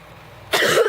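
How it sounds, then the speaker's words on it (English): A single sharp cough bursts out after a half-second of quiet, close and fairly loud. "Let's practice coughing first."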